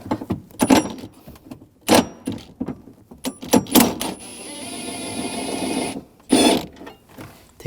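Ratcheting 13mm socket loosening a nut on a 2001-2009 Volvo S60 during battery replacement, with several close, sharp bursts of clicking and metallic clatter separated by short pauses.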